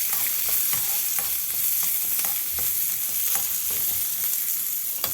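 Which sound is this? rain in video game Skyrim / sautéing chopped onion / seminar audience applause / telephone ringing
sautéing chopped onion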